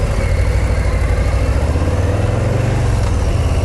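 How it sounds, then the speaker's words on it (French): Milwaukee 117 cubic inch V-Twin motorcycle engine, a large 160 Nm unit, revving loud and close with a deep lumpy throb that swells and falls in pitch midway through, heard alone. "On passe à la première, ça claque, et après on fait chanter les 117 cubic inch du V-Twin."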